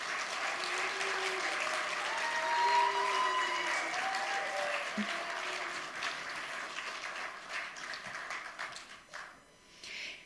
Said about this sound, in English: Please, everyone, a big round of applause for our 15 finalists.